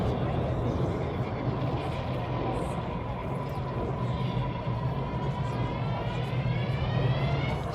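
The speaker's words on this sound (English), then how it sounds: "As Turbo brings the jet back towards the crowd" A Eurofighter Typhoon FGR-4 fighter jet flies a display at an RAF Fairford airshow, a sustained loud roaring engine wash with a slowly shifting whine, steady throughout, while a commentator talks over it.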